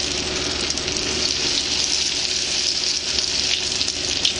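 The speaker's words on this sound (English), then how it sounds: "And I'm going to slowly drop those fillets in there." Bluegill fish fillets frying in oil heated to about 360 degrees, giving a steady, loud, close bubbling sizzle that holds without a break.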